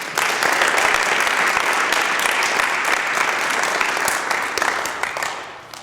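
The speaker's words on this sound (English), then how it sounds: "let's give a big round of applause to both of them" Audience applause at a 2017 honorary mayor inauguration ceremony: dense, steady clapping from a crowd that fills the whole stretch and thins slightly at the very end.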